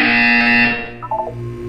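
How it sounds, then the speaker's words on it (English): A loud, sustained electronic buzzer in Portal 2 drones for about a second, then cuts into a few short stuttering tones before a lower hum continues. "You will hear a buzzer."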